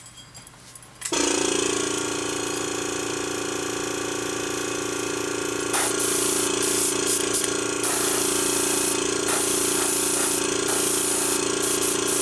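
An airbrush sprays paint onto a model with a steady, loud hiss and compressor hum. It starts abruptly after a second and continues unbroken, with slight surges partway through.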